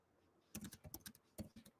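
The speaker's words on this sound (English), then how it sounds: "I'm just typing" Quick, close typing on a computer keyboard, a rapid run of clicking keystrokes following a second of near silence, then a short second burst, quiet overall and without speech.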